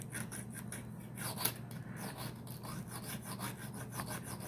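Rhythmic rasping strokes of filing or grinding down the high points on a handmade metal disc detainer lock tool head laid flat on a table, steady back-and-forth scraping with one sharper accent, close and alone.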